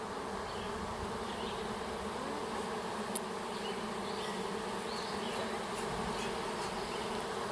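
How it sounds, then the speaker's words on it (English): A bee swarm in a tree gives a dense, continuous buzzing drone that stays steady and fairly loud throughout, with no voices. "but there's a swarm going on in our tree right now."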